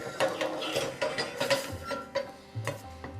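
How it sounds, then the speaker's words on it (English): Spoon scraping and clinking around a pan of honey glaze on the stove, a steady run of sharp ticks and scrapes close up, with no talking. "I'm just going to stir this up,"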